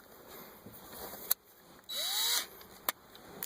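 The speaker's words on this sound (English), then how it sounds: "so I got to go with my screw gun" A cordless screw gun backs screws out of a factory car radio in a 2005 Chrysler Town and Country, a single loud whirring burst of about half a second between brief clicks and handling noise.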